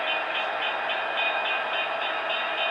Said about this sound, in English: can hear all the other engines on the layout. They're idling.